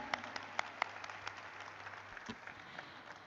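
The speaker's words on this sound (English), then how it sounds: "Can we have a bigger, bigger, bigger round of applause for him and his absolutely wonderful journey?" Faint, thin applause from an audience at an IPO listing ceremony, a few sharp claps early on, then softer scattered clapping over a low steady hum and background murmur.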